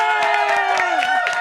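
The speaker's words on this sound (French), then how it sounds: "On peut lui donner une bonne main d'applaudissement." A studio audience in a French-language talk show cheers and claps to welcome a guest, a short, loud burst of whoops and applause.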